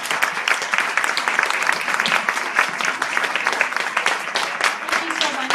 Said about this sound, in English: can we have a round of applause for our volunteers?